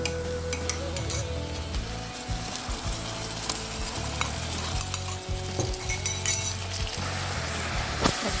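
Garlic and ginger sizzle steadily in hot oil in a pan while being stirred for a chicken and mung dal curry, with occasional metallic clinks of the spoon against the pan and no talking.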